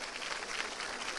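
Audience applause at a school convocation opening; a short, dense wash of steady clapping from a crowd, with no talk over it.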